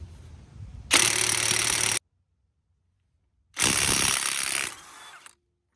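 An impact wrench on a 29 mm nut of a 2001–05 Kia Rio during front wheel bearing work fires two loud, close bursts of about a second each, with silence between them.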